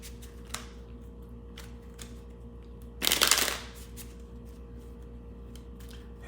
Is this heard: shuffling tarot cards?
yes